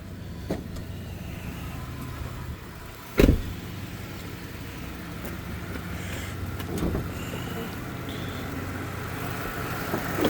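A 2015 Ford F-350 crew cab flatbed plow truck with a 6.2-liter gas engine, which has 28,000 miles on it, cranks with a sharp burst and then settles into a quiet, smooth, steady idle.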